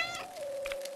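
A cat in a quirky video game gives a single short meow, clear and close, with nothing else around it.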